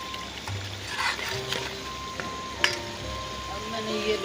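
Chicken liver (kaleji) sizzles and fries steadily in a pan, a continuous crackle with occasional stirring clicks, close up, with faint talk at moments.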